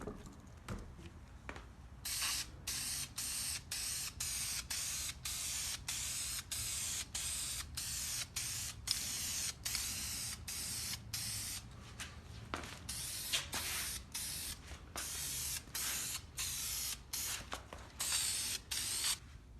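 High-temperature roll bar chassis paint sprays from an aerosol can in a long series of short, evenly spaced hissing bursts, close and fairly quiet, with brief pauses between them.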